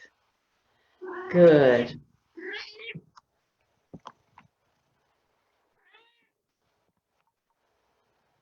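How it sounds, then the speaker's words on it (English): A house cat meows close by in a quiet indoor room, one drawn-out call followed by a shorter one, then a brief spoken word and a few faint small taps. "Hopefully you don't have a cat crawling all over you like I do."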